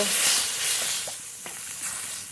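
Water poured into a pan of frying spices for a potato, tomato and drumstick curry sets off a loud, steady sizzling hiss. A few faint stirring scrapes sound beneath it.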